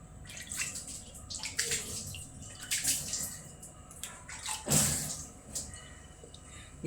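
Hands being washed under a running tap in a home kitchen during cooking, a steady splashing water stream with louder bursts of splatter, close by, no talking.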